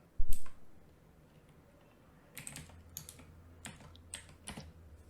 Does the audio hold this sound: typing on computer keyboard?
yes